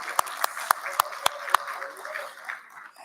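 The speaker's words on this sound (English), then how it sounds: "Shall we give them a round of applause?" A few sharp, separate hand claps ring out in a conference hall at a basic education sector lekgotla, about six in quick succession over roughly 1.5 seconds, then fade into quiet room murmur.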